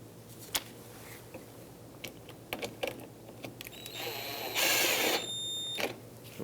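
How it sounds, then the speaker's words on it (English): Screws being driven into plastic bumper trim on a Nissan Pathfinder: scattered clicks and ratcheting taps, then a loud, whining burst of a power driver lasting about a second. "They will have to cut their own threads into the plastic as you screw them in"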